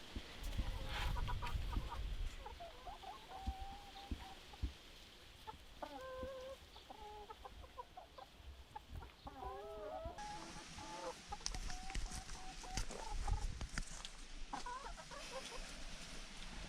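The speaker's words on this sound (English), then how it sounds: "The chickens have finally joined us here on our small holding." Chickens on a smallholding cluck and murmur close by, with repeated rising bawks and soft chattering calls amid rustling and outdoor background noise.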